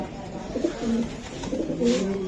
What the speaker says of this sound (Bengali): এই যে আরেকটা কবুতর, মাশাআল্লাহ।